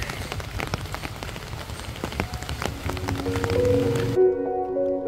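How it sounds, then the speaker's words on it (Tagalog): Rain patters steadily on a surface for about four seconds, a dense, fairly loud wash, before music swells in over it and takes over near the end. "Umuulan pa nga."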